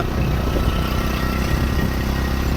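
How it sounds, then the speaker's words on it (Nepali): A scooter engine runs steadily while riding along a narrow road, a close, continuous low hum with some clatter and no one speaking. "स्कुटी हिँडिरहेछ यार। स्कुटी हिँडिरहेछ।"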